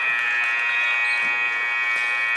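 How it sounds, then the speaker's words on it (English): A basketball arena buzzer sounds at the end of the first half of a Class 1 District tournament girls' game, a steady, loud electronic drone holding unbroken through the full stretch against faint crowd noise. "Going to Damath, back to Sanders, to Turnbow for the three-pointer at the buzzer."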